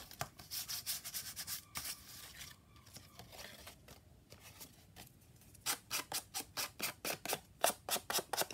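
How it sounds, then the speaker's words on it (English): Paper edges being gently sanded for a handmade junk journal, with rapid, close rhythmic scratchy strokes in two bursts separated by a quieter pause. "just going to sand those down there a bit"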